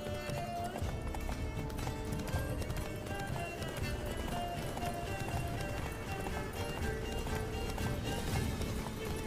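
Rapid hoofbeats of a galloping horse in The Witcher 3: Blood and Wine pound under a busy game soundtrack with music and effects, continuous and loud.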